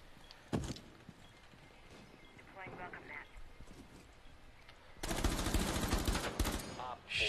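Gunfire in Rainbow Six Siege on the Consulate map, a sharp early shot and then a dense burst of rapid automatic fire later, mixed with game noise and footsteps.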